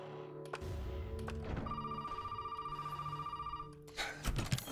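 Telephone ringing inside the game Resident Evil 7, a steady electronic trill repeating for several seconds over low game ambience before cutting off.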